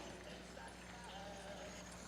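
A six-horse hitch of Clydesdale mares enters a show ring, hooves clip-clopping steadily beneath a dense crowd and arena din, with a public-address voice speaking over it.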